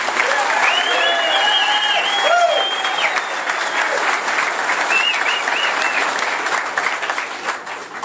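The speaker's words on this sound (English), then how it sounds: "let's hear another round of applause" A room of retirees at a talk by attorneys claps in a loud, sustained round of applause, with faint voices over it, tapering off at the close.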